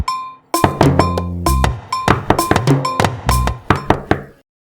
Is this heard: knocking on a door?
yes